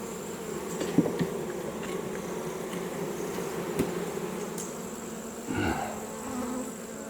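Honey bees hum faintly around an open hive box, a continuous low buzz with occasional closer passes and a brief louder swell late on, in otherwise quiet surroundings.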